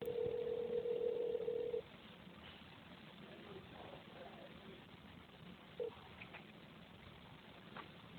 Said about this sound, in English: I'll just let you hear the phone call for yourselves